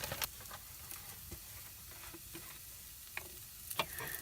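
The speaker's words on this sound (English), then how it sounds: "I'm going to let that flour cook." Flour cooks in a small 6-inch mini skillet, a faint low sizzle with scattered light ticks and scraping stirs, quiet and close, no talk.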